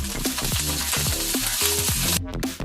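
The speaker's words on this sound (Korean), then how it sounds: "달군 후라이팬에 식용유를 두른 후 가지를 넣고 숨이 죽을 때까지 볶아줍니다." Eggplant stir-frying in oil in a preheated frying pan, a close, steady sizzle with stirring scrapes, and a brief pause near the end.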